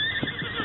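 A horse whinnies as a sound effect in an old radio western drama, one short bright neigh on a narrow, slightly hissy broadcast recording.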